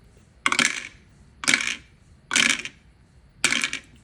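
Dice tossed for a cash-stuffing budget game clatter in four separate bursts about a second apart, each a short, bright rattle heard close up with no talking over them.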